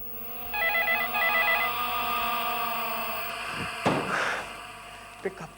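A telephone rings indoors in two quick bursts of an electronic trill, then falls silent while rustling, a thud and a few knocks follow close by.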